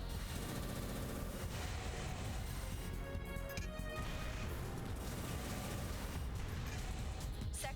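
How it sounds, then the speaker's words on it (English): Turrets open fire in Armored Core 3, a dense continuous barrage of rapid shots and crashing impacts layered over game music, loud and unbroken throughout. "Shooting at me. Turrets?"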